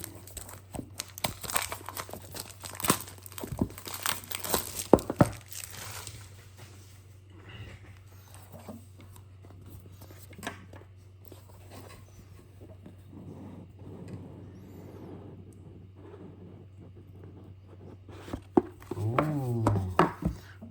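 Close, rustling crinkles and sharp tearing of packaging as an Oxilam LED headlight bulb box is opened, busy at first, then quieter handling with occasional crackles and a short voice near the end.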